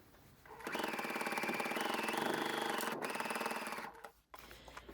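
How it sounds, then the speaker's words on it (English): Sewing machine top-stitching an internal handwarmer pocket on a jacket, a steady rapid mechanical whir running for about three seconds before stopping, close and quiet. "we're going to sew this internal pocket in position with a top stitch"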